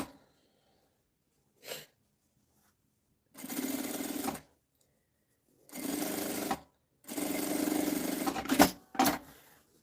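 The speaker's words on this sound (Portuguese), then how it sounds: "E uma costurinha aqui na beiradinha." Sewing machine running a seam along the edge of fabric for a children's document holder, four separate bursts of rapid stitching with short pauses between them, close and clear.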